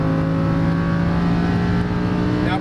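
Lamborghini Huracan LP610-4 engine pulling hard on a track, a loud sustained roar with steady harmonic tones and a rising whine near the end, heard from inside the car.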